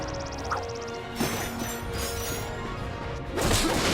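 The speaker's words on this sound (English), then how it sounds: "Look at him smashing crates." Crates being smashed by the Lombax hero in the Ratchet & Clank video game, a few sharp cracking impacts and bursts over busy game music and effects, with a louder crash near the end.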